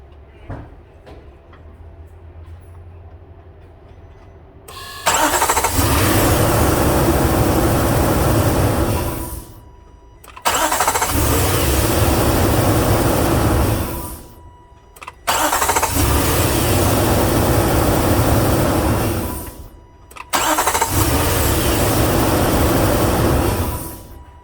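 A Nissan NV2500 V8 cranks and fires just after a new starter was fitted, then roars loudly; the engine revs in four long, even bursts separated by short dips, close and alone after a quiet opening.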